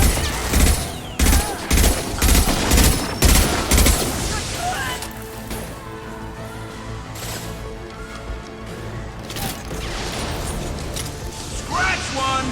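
Rifle gunfire in the sci-fi video game Mass Effect 2: rapid bursts of loud shots in a steady rhythm, then a quieter stretch of mechanical clatter and impacts.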